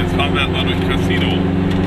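A car drives through Cassino, Italy, on a dim October evening, its engine and road noise forming a steady, close, low rumble that holds unbroken from start to finish.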